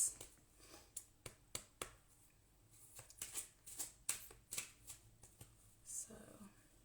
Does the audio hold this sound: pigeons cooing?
no